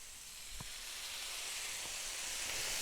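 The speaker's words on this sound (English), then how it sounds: "we are going to add some white wine to deglaze" White wine deglazing a hot pan after browned seasonings, a faint, steady hissing sizzle that builds slightly, with a couple of soft clinks near the start.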